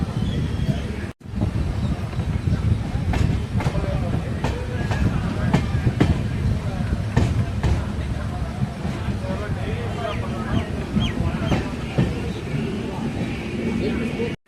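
A passenger train hauled by a WAP-7 electric locomotive pulls out of Kuthalam railway station in Tamil Nadu. A steady rolling rumble and rhythmic clickety-clack of wheels over rail joints is heard from onboard, with wind noise throughout.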